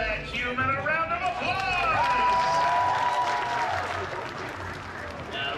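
Theme-park comedy show crowd at Monsters Inc. Laugh Floor gives a burst of applause and cheering, moderately loud, while a sung or drawn-out voice rises above the clapping.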